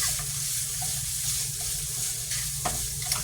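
Precooked bacon reheating in a pan, giving a steady close sizzle and crackle with a few small pops and stirring scrapes, no voices.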